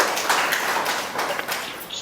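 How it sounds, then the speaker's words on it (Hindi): A group claps for Mamta Bahan at a spiritual gathering at Om Shanti Bhavan in Mathura: a brief, dense burst of many hands clapping, steady and fairly close, with no talk over it. "ममता बहन के लिए जोर से ताली बजाओ।"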